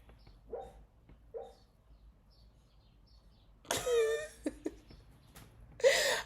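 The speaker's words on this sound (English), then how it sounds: "my dog is dreaming" A sleeping dog makes soft, faint whimpers and muffled little yips while dreaming in a quiet room, followed by a louder, longer whining cry and a final short yelp close by.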